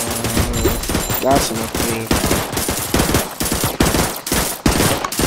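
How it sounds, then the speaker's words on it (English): Sustained bursts of rapid gunfire in the Tower Defense Simulator video game, dense and loud, rattling on almost without pause while a voice speaks briefly over the shooting. "Hopefully you guys can hear me over all the shooting."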